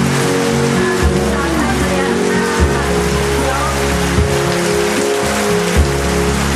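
Heavy rain pours steadily onto hard surfaces outdoors, a dense, constant hiss and patter with low rumbles, loud and close throughout, with faint talk beneath.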